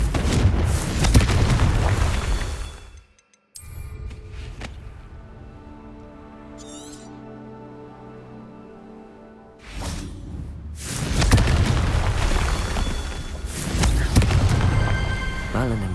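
Confringo blasting spells explode in Hogwarts Legacy, heavy booming blasts with roaring rumble that fade into a calmer stretch with a whooshing swirl before more loud explosions erupt.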